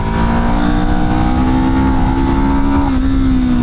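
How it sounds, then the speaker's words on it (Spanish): A renovated budget motorcycle engine revved high, a loud sustained whine that climbs steadily in pitch and then drops off near the end, close and alone. "El motor va muy bien, se siente lleno, es un motor divertido que puedes llevar muy arriba."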